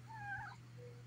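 A pet cat meows twice close by, a rising then falling cry followed by a softer short mew, over a steady low electrical hum with no talking.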